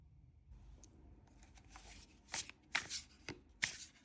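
Tarot cards being shuffled by hand close up, a few soft riffles and sharper slaps of card stock bunched toward the end, with no talk.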